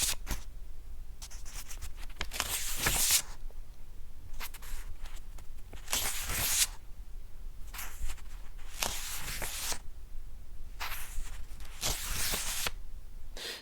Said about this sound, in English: It's just me doing Foley of pages turning in a book or a notebook.